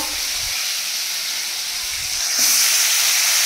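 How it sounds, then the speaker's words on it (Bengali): Black cumin seeds and home-grown tomatoes hit hot oil in a wok, giving a steady close sizzling hiss that swells louder partway through. "কড়াই দিলাম কালো জিরে, দিয়ে দিলাম গাছের টমেটো"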